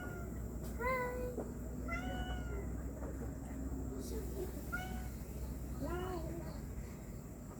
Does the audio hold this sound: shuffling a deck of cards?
no